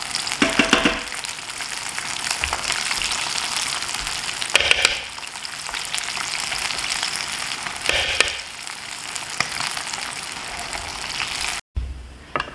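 Fish pieces for sweet-and-sour fish go into high-temperature oil for a second deep-fry, producing a steady, close bubbling sizzle that swells in louder crackling bursts every few seconds, then cuts off abruptly near the end.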